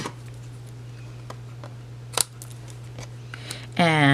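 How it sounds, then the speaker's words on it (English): Scissors trim a paper fence piece for a gingerbread haunted house craft, giving a few faint, sparse snips over a steady low hum, with one sharper cut midway and a voice starting at the end. "Then I'm going to pick it up and trim it."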